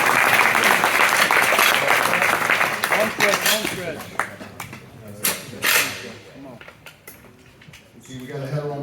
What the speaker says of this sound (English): Round of applause to cheer on.